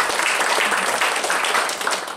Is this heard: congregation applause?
yes